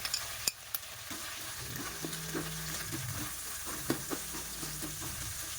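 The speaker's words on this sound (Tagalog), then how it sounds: "Gisa na natin ang bawang." Garlic sautéing in leftover frying oil in a pan while cooking beef steak, a steady close sizzle with light stirring clinks throughout, no talking.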